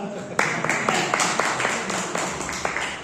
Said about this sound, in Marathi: त्याच्या नावाने टाळ्या वाजवा